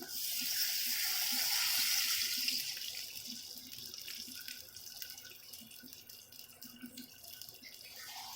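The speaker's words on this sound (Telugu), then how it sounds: "దీంట్లో ఇప్పుడు వాటర్ పోస్తున్నాను." Water pours steadily into a pan of roasting semolina for upma for a couple of seconds, then fades into quieter bubbling and light drips.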